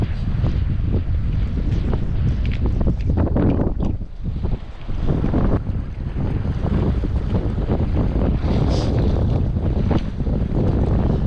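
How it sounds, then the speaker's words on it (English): Strong wind blasts across a microphone on the coast at Roundham while fishing, a loud continuous roar and buffeting with gusts rising and dipping, with waves faintly underneath. "that wind is pretty keen"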